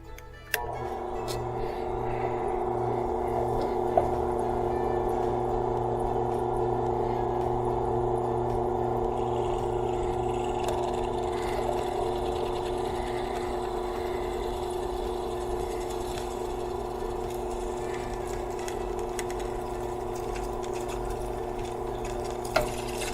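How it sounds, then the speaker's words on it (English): Drill bit boring holes through a camera lens holder for a DIY all sky camera, a steady continuous motor hum, moderately quiet and unbroken, with a couple of faint clicks. "I am just going to put the drill bit right in the lens holes"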